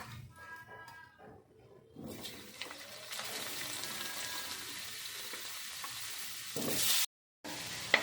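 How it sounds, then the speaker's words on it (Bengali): Oil sizzles steadily in a pan as potatoes fry, a bright hiss rising after some quiet stirring clatter, then briefly cutting off near the end. "এবার আমি আলুটা ভাজা বসাবো"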